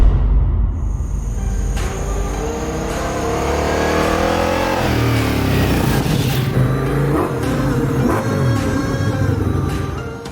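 A 2021 Ducati Multistrada V4S motorcycle's V4 engine revs hard on a twisty road, its pitch climbing through the gears with shifts along the way, loud and close over wind noise.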